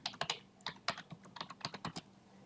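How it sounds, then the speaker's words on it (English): Rapid, irregular keystrokes on a computer keyboard, close and crisp, tapping out a sentence in quick bursts with brief pauses and no voices. "if I start typing a sentence which is wrong"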